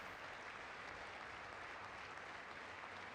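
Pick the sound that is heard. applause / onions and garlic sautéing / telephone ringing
applause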